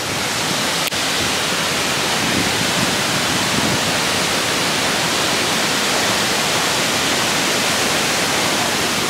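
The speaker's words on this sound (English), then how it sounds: "the beginning is like a waterfall" Waterfall at the start of a hike in Oregon: a loud, steady broadband roar of falling water holding even and unbroken throughout, with no voices.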